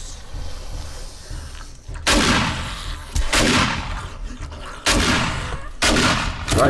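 Shotgun blasts in 7 Days To Die, four loud close booms spaced roughly a second apart, each with a short rumbling tail.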